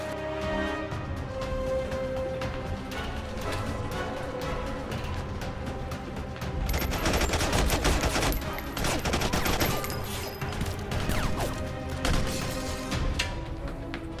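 Rapid video game gunfire during an escape shootout, dense bursts of automatic shots and volleys sustained throughout, loud and close with a heavier flurry midway.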